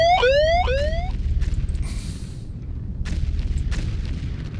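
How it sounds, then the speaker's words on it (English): An orbital laser fires in the video game Foundry, opening with rapid falling and rising electronic sweeps, then deep booming impacts and crackling bursts over a constant low rumble, loud and close. "We just fire up the laser."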